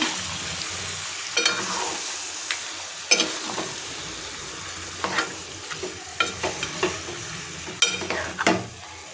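Ginger-garlic-chili paste and paste of roasted onions sauté in a hot pan for Agari-style mundi masala: a steady, close sizzle broken by scraping stirs at irregular intervals, with no voices.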